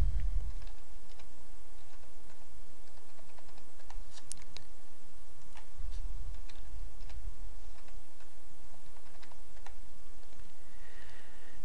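Light, steady keystrokes on a computer keyboard entering password fields, soft rapid clicking in short runs with pauses, close and alone without talk.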